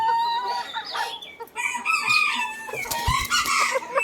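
A bantam rooster in Khon Kaen, Thailand, crows and clucks repeatedly, loud and close, with several overlapping calls and no talking.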